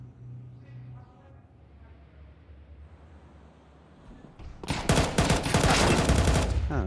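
Gunfire in a Counter-Strike match at the IEM Dallas 2025 tournament: after a few quiet seconds of low background hum, a loud, dense burst of rapid, sharp shots fills the rest of the clip.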